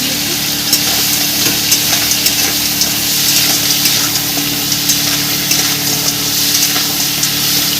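Crab pieces, claws included, frying lightly in oil for a tangy spicy crab dish, giving a loud, steady, close sizzle with faint scraping and stirring ticks, no voices.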